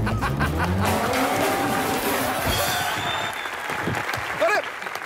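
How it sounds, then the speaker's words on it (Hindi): Strong applause from a television comedy show's studio audience, loud at first and tapering, with music swells and speech mixed in. "जोरदार तालियां हो इनके लिए।"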